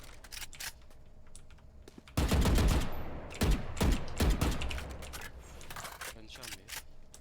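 Rapid bursts of automatic gunfire in the tactical shooter Valorant, several sharp volleys in quick succession, with a player talking and keyboard clatter underneath.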